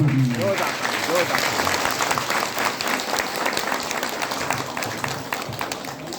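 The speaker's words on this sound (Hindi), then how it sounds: "एक जोरदार ताली।" A crowd applauds loudly and steadily, many hands clapping at once, with a brief voice at the very start.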